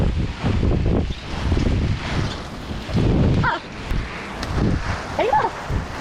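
Strong gusting typhoon wind roars and buffets the microphone in heavy waves, with a few brief shouts rising above it.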